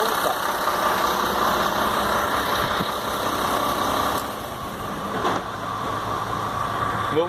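An Iveco 480 truck engine, brought in with a noise in the motor, idles steadily and close after starting, a continuous mid-pitched diesel clatter that dips slightly partway through.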